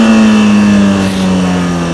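A motorcycle engine revs hard as the rider rolls on the throttle to lift the front wheel into a wheelie, a loud, close, sustained droning roar with a steady pitch that eases slightly toward the end.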